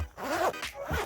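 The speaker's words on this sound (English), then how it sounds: "That is a very solid zipper that I am really happy to hear." Zipper on a brown HEMA fencing vest pulled in two quick, close strokes, each a bright rasping zip with a short pause between, heard clearly with no talking.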